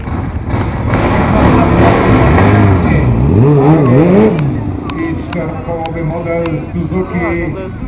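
Kawasaki ZX9R inline-four motorcycle with a Termignoni exhaust revving loudly and close, rising and falling pitch sweeps over a steady engine drone, with crowd noise and voices at an outdoor motorcycle season-opening gathering.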